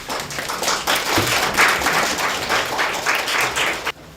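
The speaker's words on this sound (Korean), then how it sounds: "큰 박수 부탁드립니다." An audience at a Korean Buddhist winter workshop gives close, energetic applause to welcome a monk speaker. The clapping is dense and continuous for about four seconds, then cuts off abruptly.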